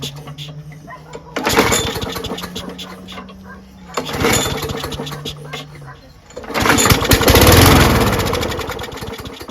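A Craftsman 6.5HP Briggs Quantum push lawnmower, its muffler missing a bolt, catches and sputters in a few loud bursts before roaring into a rough, steady run, close by.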